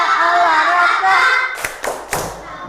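Children chant in unison and then break into a few sharp hand claps, three quick slaps following the sung words.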